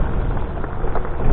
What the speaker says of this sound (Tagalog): Yun, lakas ng ulan.